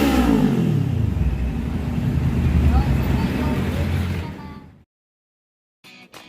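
A Kawasaki Z400 inline-four motorcycle engine revs loud and close, the pitch sweeping down from a high rev into a rough, throbbing idle before cutting off abruptly into silence.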